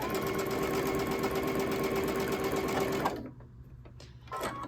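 A sewing machine stitches pieces of a signature quilt block, running at a fast steady rhythm for about three seconds, then stopping, leaving faint rustles and small handling noises.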